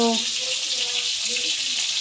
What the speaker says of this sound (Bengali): আর এদিকে মাছ ভাজা বসিয়ে দিই